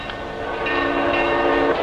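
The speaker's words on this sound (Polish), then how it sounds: "W chwili przybycia pociągu z ciałem świętego Andrzeja przybywa na dworzec wódz naczelny marszałek Śmigleryc" A train pulls into a station in 1938 Warsaw, its rolling rumble steady and close, with a sustained tonal horn or whistle sounding over the rail noise.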